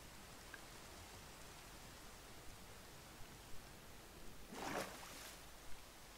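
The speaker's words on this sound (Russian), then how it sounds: "Дождик. Уже идет целый день." Steady Minecraft rain, a soft even hiss running throughout, faint and distant, with a brief louder rustle near the end and no talking.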